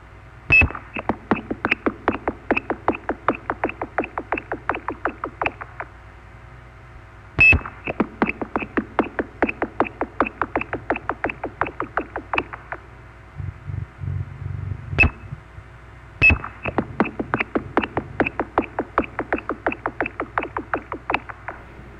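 Repeated bursts of short telephone-line tone pulses, dozens of rapid beeps in each train with brief pauses between trains and a low rumble in one gap, loud and clear with no talk.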